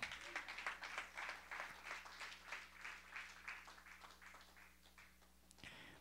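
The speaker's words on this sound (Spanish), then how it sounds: "Dale palmas al Señor." A church congregation claps in a steady rhythmic beat during a worship service, the pulses soft and somewhat distant over a low electrical hum, stopping abruptly near the end.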